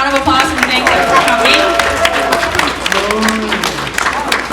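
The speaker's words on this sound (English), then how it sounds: "So can everybody give them a big round of applause" Audience at a church youth group outreach event gives a round of applause, clapping and crowd noise mixed with a voice speaking over it.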